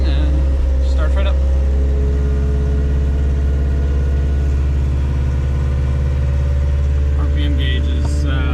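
A Toyota 4x4 camper's carbureted engine idles steadily just after starting, a continuous low rumble that stays loud throughout with occasional faint clinks and voices in the background.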